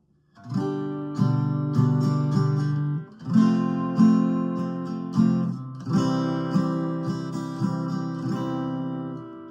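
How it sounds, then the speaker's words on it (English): Acoustic guitar strums a slow chord progression, each chord ringing out in a steady pattern of down and up strokes before fading. "if you combine those 3 chords that I just showed you with the strumming pattern, it would sound like this"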